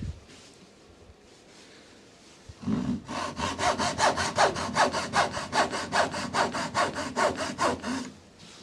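A restored cheap second-hand hand saw with a waxed blade cuts through wood in quick, steady back-and-forth strokes, close and clear, about eighteen even strokes after a short quiet start.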